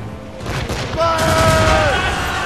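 Ship cannons firing in the naval game Assassin's Creed Rogue, a deep rumbling volley of booms under loud shouted commands, with an ongoing low roar of battle and sea throughout.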